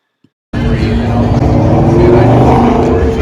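A Ford Boss 302 Mustang pulls away from a car show, its engine bursting in after a brief silence and holding a loud, steady growl with rising tones as it drives off.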